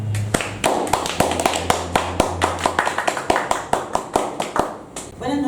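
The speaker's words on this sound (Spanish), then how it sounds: "A quien le damos un caluroso aplauso." An audience gives a warm round of applause at an evening session before a talk on environmental law, a steady run of claps near and clear, ending as voices begin.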